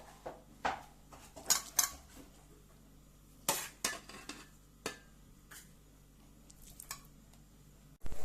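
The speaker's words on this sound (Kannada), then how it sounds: "ಈಗ ಚೆನ್ನಾಗಿ ಮಿಕ್ಸ್ ಕೊಡ್ತಾ ಇದ್ದೇನೆ" Close scraping and clinking of a spoon stirring capsicum rice in a metal pot, irregular strokes with sharp knocks against the rim and brief pauses between them.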